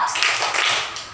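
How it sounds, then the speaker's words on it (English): A teacher claps hands twice in a classroom before a lesson begins; two quick, bright claps sound close and moderately loud, with no voices. "2 claps"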